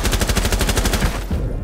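Rapid automatic gunfire from the video game Rainbow Six Siege fires as a steady, loud burst of evenly spaced shots, then stops abruptly near the end.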